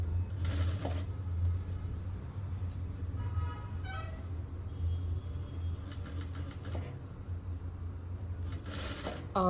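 A sewing machine stitches the sleeve of a lined blouse in a steady, continuous mechanical whir with short bursts of faster running, close and alone with no voice.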